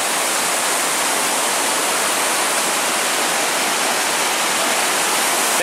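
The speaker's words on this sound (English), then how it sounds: "we're crossing over the river" A river rushes steadily beneath a bridge along the Superior Hiking Trail among spruce trees, a loud, unbroken broadband roar of moving water close by with no voices.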